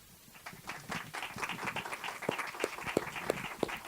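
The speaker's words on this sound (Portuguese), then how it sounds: "Palmas para ele." An audience claps at an evening lecture event, applause swelling steadily with some louder individual claps standing out toward the end, moderately distant.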